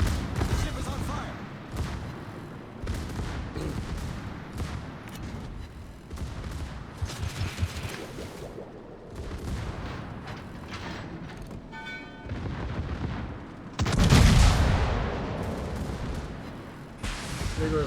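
Battleship secondary guns firing in a naval video game, with repeated bursts of booming gunfire and a heavier blast late on, all under steady talk over game sounds.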